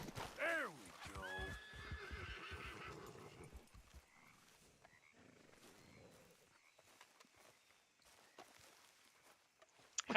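A horse in the western video game Red Dead Redemption 2 gives a loud, wavering whinny up front, followed by a few hoof clops and faint movement sounds that trail off quietly.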